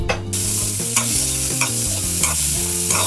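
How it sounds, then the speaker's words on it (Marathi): Chickpeas frying in a pan produce a continuous close sizzle, with repeated stirring scrapes and clinks at a regular pace, no talking. "चला छोले आता थोडे फ्राय करून घेऊया।"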